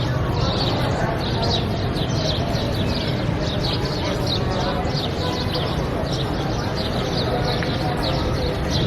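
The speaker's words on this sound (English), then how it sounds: "Those birds that you hear chirping away and flying around the mosque" Many small birds chirp and tweet continuously around a mosque beside a busy clothes market in Karachi, Pakistan, over a steady ambient rumble, with faint voices mixed in.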